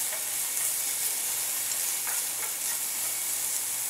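Onion frying in a pan, a dense, even hiss of sizzling oil held close and steady throughout, with a few faint stirring clicks and no talking.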